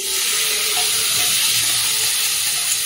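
Ghugni warming in a pan gives a steady, close hiss of steam and soft sizzling that runs the whole time with no talk over it.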